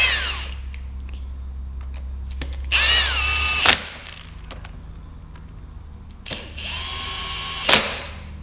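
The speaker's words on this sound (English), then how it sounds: "I'm gonna run these down real gently with the impact." An impact driver gently runs down bolts on a DIY gasket in two separate short bursts of whirring and rattling, each rising in pitch and ending with a sharp snap, with quiet pauses between.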